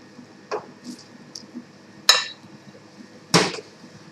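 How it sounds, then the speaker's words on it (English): Raw prawns tossed into a hot pan of salted egg yolk sauce, landing as three short, sharp splashing clatters spaced over a few seconds, with quiet kitchen background between them. "Now I'm going to throw in the prawns."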